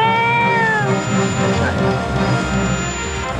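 A cat meows loudly and up close in a Thai TV drama scene, giving drawn-out, wavering cries over a constant background rumble.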